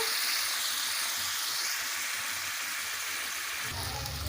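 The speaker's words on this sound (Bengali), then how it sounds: "ভেজে রাখা আলু দিয়ে দেবো সামান্য পরিমাণ জল" Water poured into a pan of fried potatoes with oil in a curry hisses in a steady, close sizzle, with a bubbling change near the end.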